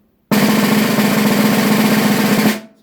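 A steady snare drum buzz roll with the snares on, giving a bright, hissing rattle, held evenly for a couple of seconds and then stopped.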